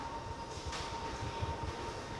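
Subway station ambience in Gangnam, Seoul: a steady low rumble of a train with faint rhythmic clatter and a constant high tone, moderately distant, with no voices.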